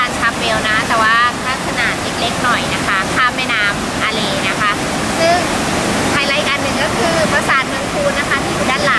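Rushing water of the Aare river in Zurich, a steady broadband roar close by, with someone speaking over it throughout.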